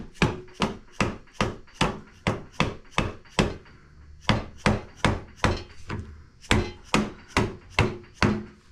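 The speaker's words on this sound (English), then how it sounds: "I'm using this mallet here. I just want to hit them back." Rubber mallet strikes tapping parts back into place while assembling a 1973–77 Buick Regal A-body sunroof, a steady series of about twenty sharp, close knocks in quick regular rhythm with a short pause midway.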